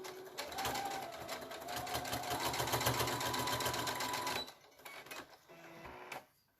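A sewing machine fitted with a roller foot stitches faux leather in a fast, steady close whir for about four seconds, then slows into shorter bursts before stopping.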